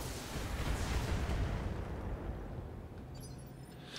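Heavy, continuous booming weapon fire rumbles from a mech firing on an enemy vehicle in the BattleTech video game, a dense barrage that tapers slightly toward the end.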